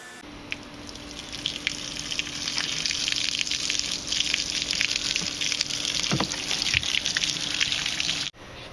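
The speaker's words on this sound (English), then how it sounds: "I'm watering the grass in the front. Gotta change the position of the sprinkler." A lawn sprinkler waters front-yard grass with a steady, even hiss of spraying water, moderately close and continuous, ending abruptly near the finish.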